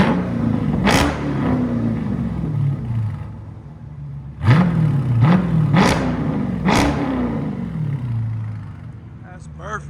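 A 2019 Dodge Charger with a 6.4L HEMI V8 and AWE Track cat-back exhaust revs in several sharp, throaty blips over a deep burbling idle, recorded close by on a cold day, with people talking over it.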